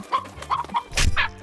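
Cartoon chicken clucking from South Park, a few short bright clucks in quick succession, close and fairly loud, with a denser squawk near the end.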